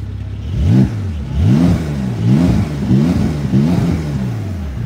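A Porsche 911 Carrera S engine revs repeatedly in loud, rising-and-falling surges, about four or five blips in quick succession, close and clear with no talking.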